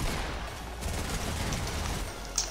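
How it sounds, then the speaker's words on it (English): Shotgun fire in Fortnite, loud and dense over a noisy battle background, with blasts blurring into a continuous roar and a sharper bang near the end. "I'm bringing out the shotgun, my boy."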